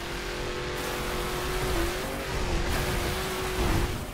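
A raid car drives through the Florida marshland in the racing game The Crew, its engine droning steadily with a rising and falling pitch, loud and close, with no one talking.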